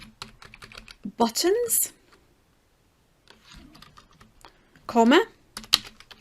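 Rapid clicking of computer keyboard keys while writing R Shiny code, a steady run of light taps spread through the clip, with someone speaking over parts of it.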